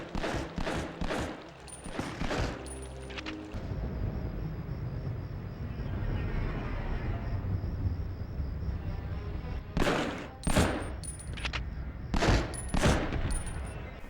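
Gunfire from a 3D first-person shooter video game from around 2000 running on a Game Boy, with clusters of sharp shots at the start and in bursts near the end, and a steady synthetic hum in between.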